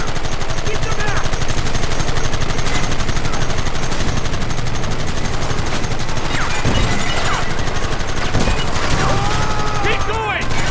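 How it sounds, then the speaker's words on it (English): A loud, sustained battle from the video game Red Dead Redemption, with rapid overlapping gunfire crackling without pause for about ten seconds while shouting voices cut through the barrage. "Gun them down!"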